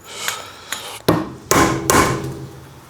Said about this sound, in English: Look, I'm really hitting this now. It's quite a big hammer.